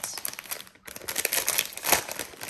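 Crinkly plastic packaging rustles and crackles up close, a continuous scratchy crinkling with a brief pause near the start.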